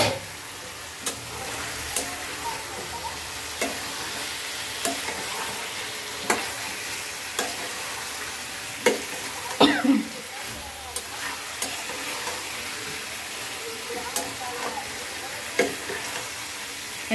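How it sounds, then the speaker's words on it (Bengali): Taro and hilsa fish with raw and ripe tomatoes sauté in a pan, giving a steady, moderately loud sizzle punctuated by regular scraping and clicking stirring strokes. "একবারে মাছ আর সবকিছু কষানো হোক, আর একটু কষাবো"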